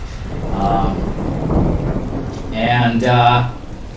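Thunderstorm effect with steady rain hiss and low rolling thunder that swells near the end, loud and continuous, with no talk.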